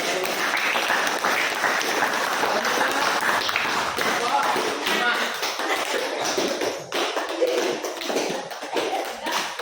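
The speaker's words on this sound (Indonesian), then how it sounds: "beri tepuk tangan untuk kamu" Classroom of students clapping together as a round of applause during a floor gymnastics lesson, steady and dense throughout, with some voices mixed in and a slight thinning toward the end.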